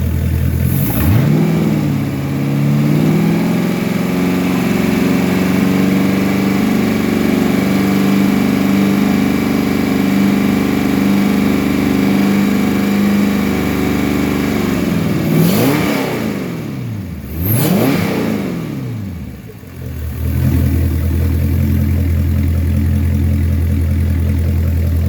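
A Gen 6 MerCruiser marine engine on run-in holds a loud steady rev, then dips and surges through two quick throttle blips before settling back to a strong, even run.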